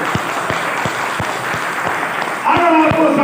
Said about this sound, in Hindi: सेफ शॉप में बजाओ एक बार जोरदार ताली।